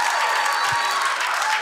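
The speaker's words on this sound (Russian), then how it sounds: "Ваши аплодисменты Кристине Волковой, бурные." A TV show studio audience gives a contestant an ovation, a brief dense burst of clapping heard alone.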